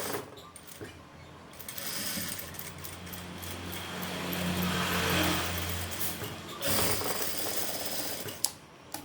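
A sewing machine stitches a gathered frill of fabric in a close, steady mechanical whir that runs for several seconds, pauses briefly, then resumes with ratcheting clicks.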